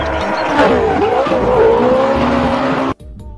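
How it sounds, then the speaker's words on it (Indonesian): Toy racing sedan car giving off loud revving and screeching race-car effects with rising and falling engine tones, close and continuous before cutting off abruptly near the end. "kita mendapatkan mobil balap sedan teman-teman."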